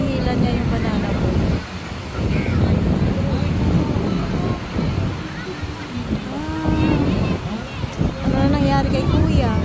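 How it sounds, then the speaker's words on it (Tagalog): A motorboat out at sea tows a banana boat, its engine a steady low drone mixed with wind buffeting and wave wash, while people chatter and call out over it throughout. "hinihila niya yung banana boat"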